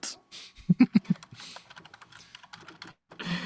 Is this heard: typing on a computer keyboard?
yes